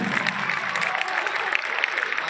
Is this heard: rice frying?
no